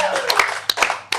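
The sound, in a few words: hand clapping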